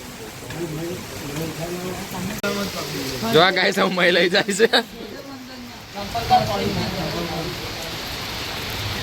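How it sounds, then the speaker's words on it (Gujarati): Rain falling steadily on a farm where cows shelter under trees, a soft continuous hiss that keeps on beneath a person talking, with a few louder clattering moments midway. "પણ આ વરસાદે બધું અવરું કર્યું"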